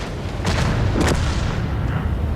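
A tank cannon fires in a tank battle game on the El Halluf map, played with the SFAC 105, giving a couple of dull booming reports over a low rumbling background, moderately loud with no voices.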